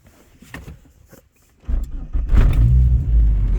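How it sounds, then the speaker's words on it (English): A car engine cranks and catches after a quiet moment, settling into a loud, steady low rumble; the engine is suspected of a misfire. "The car starts,"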